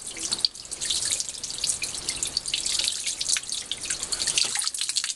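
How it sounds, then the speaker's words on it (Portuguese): Water runs from a sink tap while a vinyl record is rinsed and washed, a steady close splashing stream with small drips and hand movements in the flow. "Desliga a torneira para economizar água"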